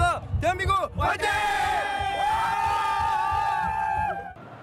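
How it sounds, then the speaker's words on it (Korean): A packed stadium of over 40,000 fans roars and shouts at a Korea national football team send-off match in Jeonju, a loud, continuous wall of crowd noise with sustained chant-like tones that drops off at the end. "경기장은 4만 명이 넘는 만원 관중들이 뿜어내는 함성으로 가득 찼습니다"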